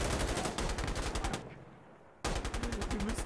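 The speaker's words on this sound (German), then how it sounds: "Sorry, dass ich hier geschossen habe" Automatic rifle fire in the tactical shooter Insurgency, loud close rapid bursts that stop for about a second of near silence before firing resumes just as hard.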